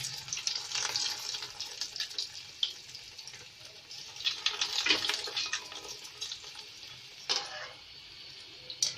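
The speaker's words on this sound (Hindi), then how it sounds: "ये हमारा ऑयल गरम हो गया है। अब हम इसको फ्राई करने के लिए डालेंगे।" Potato cheese balls deep-frying in hot oil in a kadai give a steady crackling sizzle, with brief louder bursts of bubbling and a few spoon or utensil sounds along the way.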